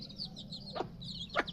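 Young chicks on their eighteenth day peep in quick high chirps, with two sharper calls standing out over a low steady background hum.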